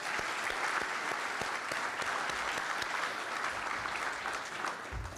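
An audience at a Rise Up Industries tenth anniversary event claps steadily in a dense, even patter of many hands that holds throughout at moderate loudness with no voices over it.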